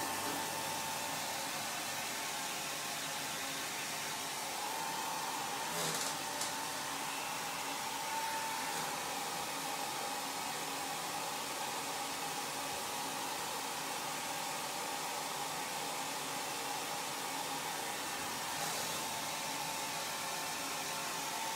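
A hair dryer blows steadily on a wet watercolor painting of autumn apples, a constant close airy whoosh with a faint motor whine, lasting throughout without talk.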